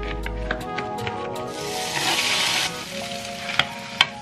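Onions and garlic frying in a pan for a homemade tomato sauce, a steady sizzle that swells midway, with a few sharp taps of a utensil near the end.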